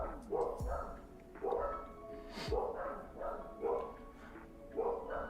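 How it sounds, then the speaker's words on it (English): Dogs bark in a steady series of about six muffled woofs, sounding distant as if from another room, fairly faint. "The dogs are barking upstairs."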